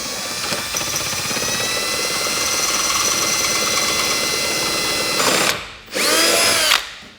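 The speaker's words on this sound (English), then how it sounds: "We're just gonna drill straight through." A power drill with a 7/16 bit whines steadily as it bores straight through metal on a Polaris RZR XP 1000, briefly stopping and restarting near the end, loud and close with no talking.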